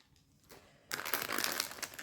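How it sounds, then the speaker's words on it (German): A resealable plastic zip bag holding a cross-stitch kit is handled during an unboxing; after a quiet moment, close crinkling and rustling of the plastic starts suddenly and continues. "Ihr seht auch hier wieder alles verpackt in einer Zip-Tüte, also einen Zip-Beutel, der wieder verschließbar ist."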